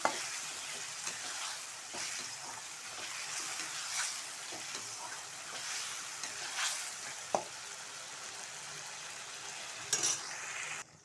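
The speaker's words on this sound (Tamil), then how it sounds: "இப்போது இதில் எடுத்து வச்சுருக்க இந்த மட்டன் பீஸை சேர்த்துடலாம் சேர்த்துட்டு இதை நல்லா வதக்கி விட்டுக்கலாம்" Mutton pieces sautéing in a hot pan for a pepper fry, a continuous soft sizzle broken by occasional clinks and scrapes of a spoon against the pan, close and quiet with no talking.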